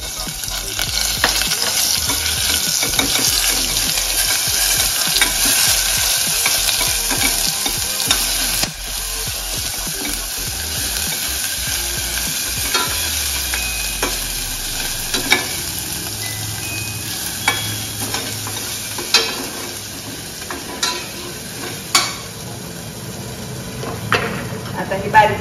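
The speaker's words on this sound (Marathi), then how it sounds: "आता ही बारीक केलेली पेस्ट वतायची" Ginger-garlic paste sizzling and being stirred in a pan for a Kolhapuri white mutton curry: bright continuous frying hiss with scraping stirs, and spoon knocks against the pan growing sharper toward the end.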